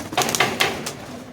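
Domestic pigeons coo near a loft, the soft calls overlapping with a few sharp knocks and scuffs, lasting just over a second with no talk.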